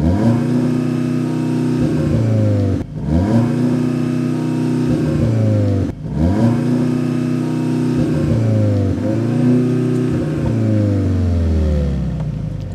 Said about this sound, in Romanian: Și ce vrei acum, să accelerezi, nu? Da, ia, turează o țără.